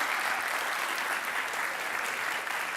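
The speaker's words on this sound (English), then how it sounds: "big round of applause for them" A crowd at a startup accelerator showcase gives a big round of applause for the AV team, a brief burst of loud, dense clapping that stays steady throughout.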